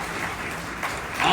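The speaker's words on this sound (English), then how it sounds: "Graduates should be clapping particularly hard." Sustained applause from families and graduates at a school graduation ceremony, a steady wash of clapping that swells louder near the end.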